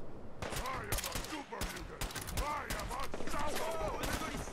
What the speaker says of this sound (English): that guy is going to fucking shoot hard and fast